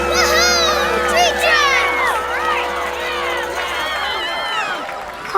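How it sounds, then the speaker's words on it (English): A lively cartoon crowd cheers and whoops for a funk band called the Tree Trunks, excited overlapping voices and shrill squeals rising and falling throughout, loud and close. "Are they cheering for us?"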